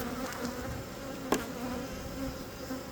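Honey bees swarm and buzz at an open beehive, a dense, steady drone close by with one brief sharper knock partway through.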